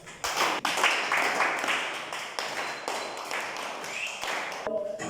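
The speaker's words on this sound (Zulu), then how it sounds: "Ngiqanisha ihlombe sinazina abasha." Clapping and scattered applause from a group welcoming visitors at a high school gathering, sustained hand claps with some voices mixed in, fairly close and steady before tapering off.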